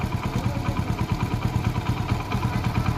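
A Hero HF Deluxe motorcycle idles at low RPM, its engine putting out a steady, close, pulsing putter with a light mechanical clatter throughout.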